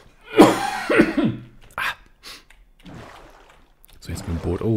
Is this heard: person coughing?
yes